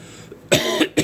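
A man coughs inside a bee barn with the carbon dioxide level set high, giving two or three harsh, close coughs over a faint steady background hum.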